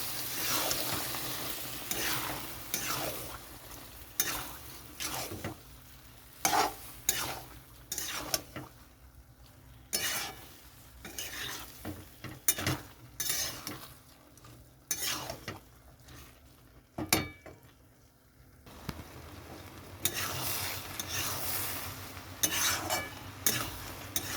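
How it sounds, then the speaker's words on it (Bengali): Boiled peas and spices for chicken ghugni are stir-fried in a pan, with repeated scraping stirs and bursts of clinking utensil over a low, steady sizzle and short quiet gaps. "ঘুগনি মটরটা বানানোর জন্য প্রথমে মশলাটা ভালো করে কষিয়ে নিয়ে তারপরে এরকম দিতে হবে, দিয়ে একটু কষাতে হবে।"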